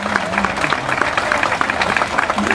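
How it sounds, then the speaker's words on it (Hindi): Loud, sustained applause from a crowd at an Aam Aadmi Party rally greeting a mayoral candidate: a steady wash of many hands clapping, close and continuous, with faint crowd voices mixed in. "जोरदार तालियों से इनका स्वागत कीजिए।"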